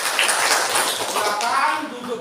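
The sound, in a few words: classroom clapping for a student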